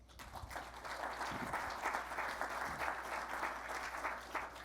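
Steady applause from a large audience, sustained clapping throughout without a break.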